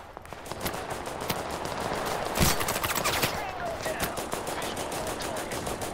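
Rapid gunfire from the Total Conflict: Resistance war game, a dense stream of repeated shots with one louder burst near the middle, continuous throughout and mixed with game noise.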